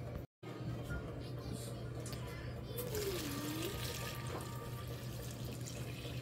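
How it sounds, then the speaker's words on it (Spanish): Warm water poured onto lard and all-purpose flour in a bowl for tortilla dough, a soft continuous trickling and splashing under a steady low hum, quiet and close, with a brief dropout at the start. "Y ahora le van a poner el agua calientita."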